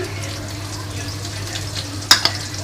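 Chopped onions and green chillies sizzle in a wok, a steady frying hiss with a couple of sharp clinks of stirring near the end.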